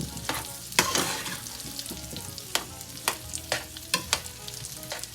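Food sizzles steadily in a frying pan seasoned with thyme while a utensil scrapes and stirs through it, giving irregular loud clacks and scrapes over the continuous crackle.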